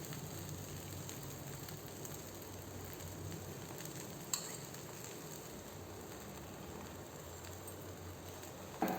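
A beaten egg frying on a spicy dosa on a hot griddle, giving a low, continuous crackling sizzle. One sharp clink comes midway and another at the end, with no one talking.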